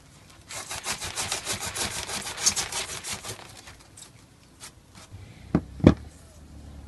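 Steel high-carbon knife blade cutting through styrofoam insulation in an RV wall, a rapid rhythmic squeaky sawing for a few seconds, then quieter scraping and two sharp snaps near the end.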